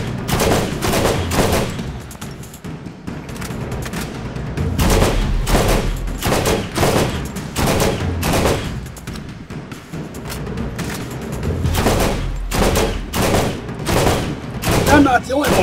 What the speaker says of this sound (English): With a level 4 SMG.